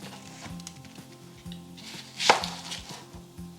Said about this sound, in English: We're just going to coarsely chop them just into quarters.